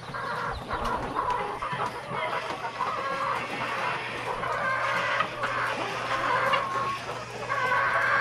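Poultry hens clucking in a coop while laying eggs, a busy continuous chorus of clucks and calls over a steady low hum, with a voice speaking briefly nearby.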